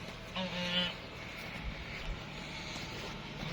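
A goose gives a short burst of honks early on, over a steady outdoor background of faint farmyard noise with chickens and roosters.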